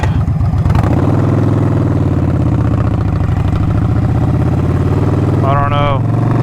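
A Victory motorcycle cruising on the interstate, its engine droning loud and steady with constant wind rush for the whole stretch.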